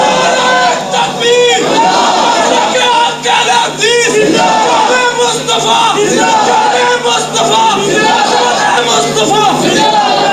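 A large crowd roars a religious slogan in loud unison during a hamd and naat gathering, swelling voices shouting together in repeated bursts over a continuous babble.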